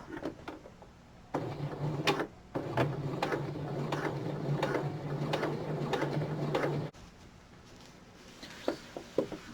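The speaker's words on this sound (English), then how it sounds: "My serger didn't like going through the seam allowances" A serger stitches through thick seam allowance layers on a knit toque, running in a loud, steady mechanical whir with short stop-start bursts and a few clicks.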